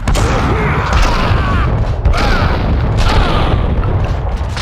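Gunfire from the Max Payne 2 PC video game: loud, dense volleys of shots and booming blasts continuing almost without pause through the clip, with a few sharper bursts standing out.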